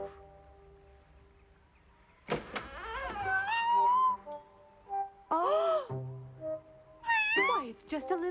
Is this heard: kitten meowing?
yes